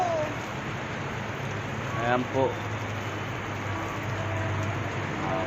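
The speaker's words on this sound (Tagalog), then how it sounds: "Napakalakas guys ng ulan." Heavy rain roars steadily in a constant hiss on a tricycle, with a person speaking briefly over the downpour.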